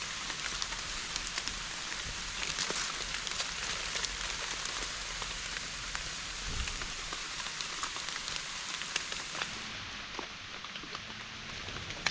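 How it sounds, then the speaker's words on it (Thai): Steady rain patters on the surrounding surfaces in a wooded area during a mushroom-foraging outing, a dense, continuous hiss with scattered close drops and no talking. "เนื่องจากตอนนี้ฝนกะตกแล้วครับ ตกมาโดนเติมแล้วล่ะครับนะ"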